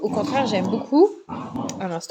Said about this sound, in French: le bruit que vous entendez, c'est mes chiens qui s'amusent ensemble